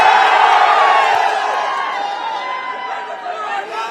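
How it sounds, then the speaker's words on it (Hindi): A large crowd at a political rally in Kaushambi cheers and whoops, a loud dense roar of voices that slowly eases over a few seconds. "ये बुलाई हुई भीड़ नहीं है, अपने साधन से आई हुई भीड़ है"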